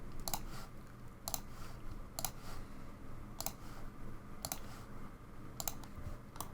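Mouse clicks in Blender land one by one at a steady pace, about six sharp, close, faint clicks over a quiet room hiss, with no voices.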